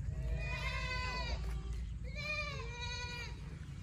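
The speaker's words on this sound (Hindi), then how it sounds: "ये वो बकरा चेक कर" Black goat bleating at a livestock market, two long wavering bleats close by over a steady low rumble of background noise, no talking.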